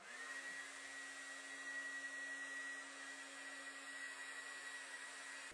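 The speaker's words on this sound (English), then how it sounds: "When you turn it to cold and blow dry your hair cold, you'll be able to get a better feel of damp areas." Handheld hair dryer running on its cold setting while blow drying hair, a steady loud whooshing drone with a constant motor whine, continuous and close throughout with no talking.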